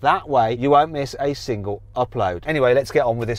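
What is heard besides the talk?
No everyday noise stands out behind the speech.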